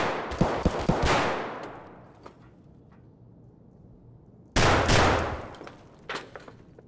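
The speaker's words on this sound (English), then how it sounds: "I didn't mean to shoot twice." Two loud, close gunshot bursts in Escape From Tarkov, the first near the start and the second after a quiet gap, each with sharp cracks trailing into a decaying echo, plus a few fainter clicks and thumps.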